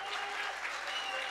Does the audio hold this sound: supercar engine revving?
no